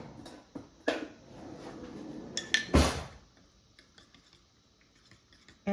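A spoon stirs Nutella hot chocolate in a cup fresh from the microwave, giving a few close clinks and scrapes, one louder clatter near the middle, then fading to quiet.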